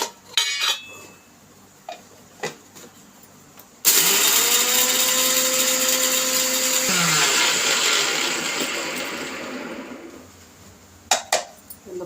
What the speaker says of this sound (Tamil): இப்போ இந்த வெந்தயம், மல்லி, பச்சை கடலைப்பருப்பு அடிச்சுட்டு அதுக்கப்புறமா எல்லாம் போட்டு அடிச்சுக்கலாம்.